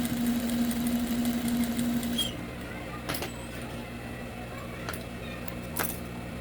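A sewing machine runs in a steady whir while stitching chintz and raw cotton fabric for a door draft stopper, then stops after about two seconds, leaving a quiet room with a few faint handling clicks.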